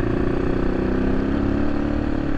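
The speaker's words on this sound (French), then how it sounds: "Waouh, le moteur, il est rond, il est doux." An AJP PR7 motorcycle's engine running at a steady, smooth idle-like drone on a trail ride in Morocco, loud and close with an even low throb and no voices.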